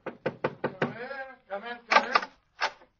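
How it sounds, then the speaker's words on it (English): Four quick knuckle taps on a study door, evenly spaced and close, followed by a voice speaking. "Let's tap on his study door."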